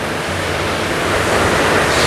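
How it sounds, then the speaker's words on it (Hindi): The Murga Mahadev waterfall, a pure flowing river coming down between hills in Joda, Odisha, roars as a loud, dense, continuous rush of falling water close by. "शोर झरना का, स्रोत झरना का।"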